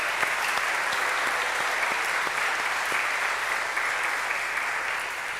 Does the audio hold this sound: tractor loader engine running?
no